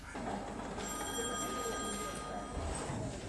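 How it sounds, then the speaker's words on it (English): A red phone rings with a repeated electronic trill over faint background noise during a TV drama scene, soft and a little distant. "Oh no, the red phone."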